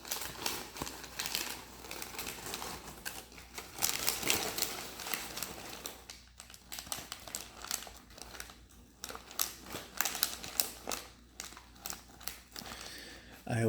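Paper packing material crinkled and crumpled by hand close up, continuous rustling and crackling with uneven louder bursts throughout.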